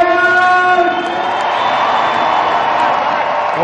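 A large crowd cheers and roars loudly at an indoor hockey World Cup semi-final in Leipzig, a dense sustained wall of voices with a whistle-like tone early on, easing slightly after the first second.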